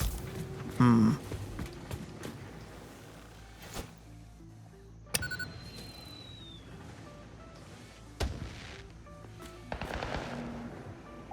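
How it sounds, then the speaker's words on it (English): Fireworks in the factory-building video game Satisfactory pop and crackle in scattered bursts, with a few sharp louder bangs spread across the stretch over a low steady game hum. "I did not expect fireworks."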